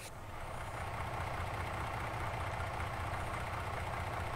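Truck engine idling in Farming Simulator 19, a steady low rumble with a continuous mid-range drone that holds even and loud throughout, alone with no voices.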